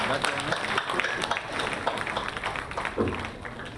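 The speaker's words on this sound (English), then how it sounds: "A big round of applause, everyone." Audience applauding at a book release function, a short burst of fairly close clapping with voices talking over it.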